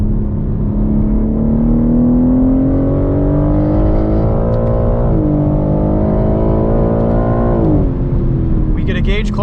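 A 2021 BMW M3 Competition on a race track, its engine revving hard in manual mode with steady rising pitch and two quick drops at paddle upshifts, loud and close from inside the cabin.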